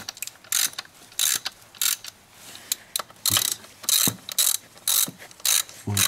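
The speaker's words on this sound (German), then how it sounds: "Jetzt wieder die Schrauben schön über Kreuz festziehen, nicht zu viel, immer nur ein klein wenig." Ratchet wrench clicking in short bursts while pressure plate bolts are tightened on a BMW E34 M30 clutch, close and crisp, with pauses between bursts.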